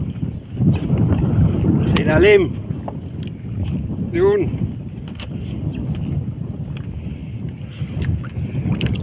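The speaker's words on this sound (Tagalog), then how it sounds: "kung mayroon napapansin kayong maingay, hangin po yan, medyo mahangin-hangin" Steady low wind rumble buffets the microphone outdoors on a breezy day, continuous throughout, with a voice speaking briefly over it.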